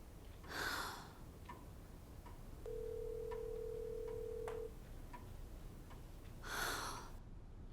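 A telephone-like electronic tone sounds in the quiet, with faint ticks and two soft bursts of noise nearby, no talking.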